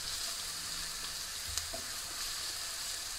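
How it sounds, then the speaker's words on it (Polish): Chopped onion fries in a pan while being stirred, giving a continuous soft sizzle with a faint clink of the utensil partway through. "Razem przemieszamy i dosłownie niezbyt długo, do momentu, jak nam się cebulka zeszkli."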